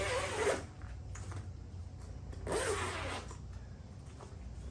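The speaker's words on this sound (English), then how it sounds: "So let's just unzip it and see what's in there." Zipper on a bag holding inflatable windsurf gear (sail, boom, mast track and universal joint) being pulled open in two long close rasping strokes, with a steady low background hum between them.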